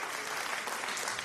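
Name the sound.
cheer sound effect in live stream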